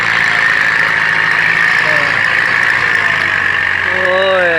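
A Ford farm tractor engine runs hard under heavy load while pushing, a loud sustained drone with a strong steady mid-range tone and shifting harmonics near the end, a voice talking over it much of the time.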